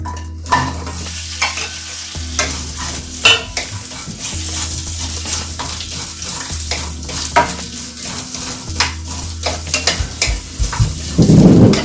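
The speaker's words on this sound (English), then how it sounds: "Stir the lady's finger." Lady's finger (okra) frying in coconut oil in a pan over a low flame, stirred with a utensil: a steady close sizzle under repeated scrapes and clinks against the pan, louder knocks near the end.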